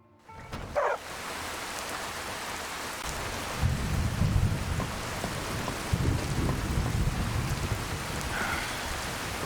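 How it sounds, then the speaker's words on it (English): Steady rain pours in the Skyrim video game, with rolling thunder swelling in beneath it; the downpour is continuous and moderately loud with no talking. "Out into the rain."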